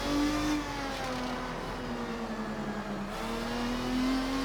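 A 2000 Lister Storm GT in a racing game, its engine droning steadily under acceleration with a rising and falling pitch as it shifts, loud and continuous throughout.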